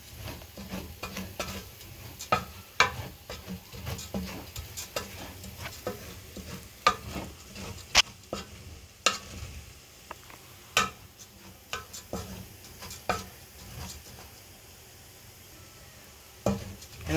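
Three cups of rice stirred in hot oil in a pot for Egyptian-style rice: a quiet sizzle beneath repeated scraping and clicking spoon strokes, irregular and close, with no talking.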